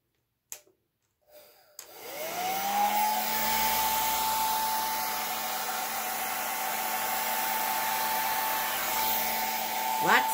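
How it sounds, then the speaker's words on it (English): A Blowzilla air blower, used without its compressor attachment, blows out acrylic paint on a spin-art piece: a few clicks, then the motor whirs up and holds a loud, steady whine to the end. "I have Blowzilla herself without the compressor on the end. And I'm just going to blow this out a little bit."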